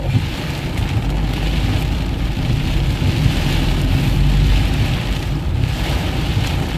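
Steady, heavy rain pours in Kolkata during the first shower of the season, a constant broadband wash with a low rumble and gusty wind, without a break.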